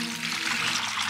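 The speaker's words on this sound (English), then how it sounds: "So I've got a bowl and we're gonna fill it with water." Water poured into a bowl, a close, steady rushing splash with bright hissing texture lasting about a second.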